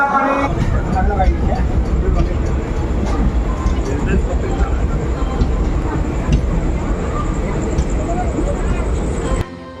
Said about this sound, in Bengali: জগন্নাথ এক্সপ্রেস এক নম্বর প্ল্যাটফর্মে ঢুকলো এই মাত্র